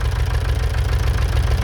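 A Fordson Major tractor, restored from a wreck with a formerly seized engine, runs close by with a steady, loud low-pitched chugging rumble and no pauses.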